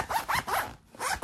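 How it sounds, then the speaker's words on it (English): A YKK zipper on a pair of PAF trousers is worked back and forth, four quick rasping zips in a brisk rhythm with a short pause before the last, close and crisp. "nice YKK zippers"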